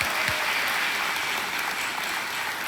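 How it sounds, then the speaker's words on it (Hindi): Studio audience on the KBC quiz show stage claps steadily in a dense, even wash for a few seconds, moderately loud with no voices over it. "तालियों के साथ आपका स्वागत करते हैं"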